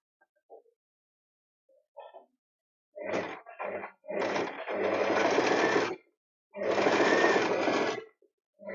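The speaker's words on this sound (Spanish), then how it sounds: "lo vamos a doblar y lo vamos a coser hacia abajo" Sewing machine stitching fabric for a bear-shaped backpack, in loud continuous runs of a few seconds each separated by short pauses, with faint light handling noises at the start.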